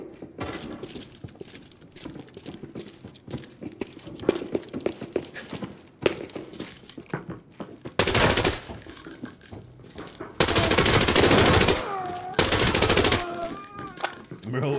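Rapid bursts of automatic gunfire firing HP ammunition in the shooter game Arena Breakout Infinite, loud sustained volleys in the second half after scattered lighter impacts and footsteps, with a voice talking over parts of it.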